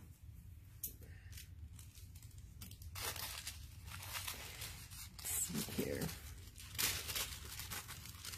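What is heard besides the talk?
scissors cutting around a paper image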